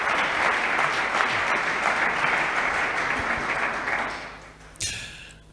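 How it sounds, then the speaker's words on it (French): Steady applause from a crowd at a press conference fills the room, then fades out near the end, followed by a brief clatter. "Je demande à l'assistance d'applaudir quand même."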